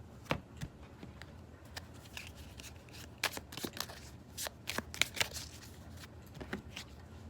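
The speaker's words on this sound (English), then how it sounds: "so you can skip the shuffling part" Tarot cards shuffled by hand: repeated crisp riffling and slapping bursts in an uneven rhythm, close and moderately loud, with no speech.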